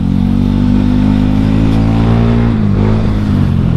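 A Honda Scoopy motor scooter's aftermarket exhaust revs loudly and steadily up close, engine pitch holding then dipping briefly near the end.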